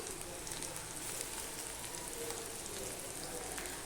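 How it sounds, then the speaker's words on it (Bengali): Garlic fries in hot oil with onion in the pan, cooking for a pomfret fish curry: a steady close crackling hiss that holds at an even level the whole time, with no voice over it. "রসুনটা দিয়ে আমি একটুখানি করে ভেজে নিলাম"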